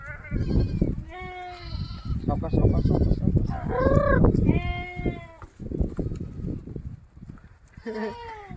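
A goat bleats repeatedly at close range, one wavering cry after another, while people talk in the background.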